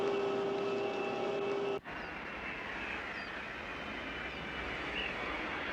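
Airplane engine drones steadily during flight aboard a small plane, a constant even hum with a tonal whine that cuts off abruptly near two seconds before settling into a broader steady roar.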